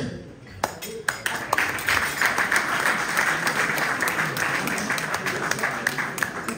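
An audience at a Hilloula memorial gathering for Baba Salé breaks into applause, starting with a few scattered sharp claps and swelling into steady, fairly loud clapping with occasional crisp individual hits.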